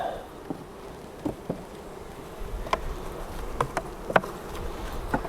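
Wild caught bees buzzing around hive frames, a soft steady hum with occasional closer passes, while faint clicks and knocks of frame handling come through without speech.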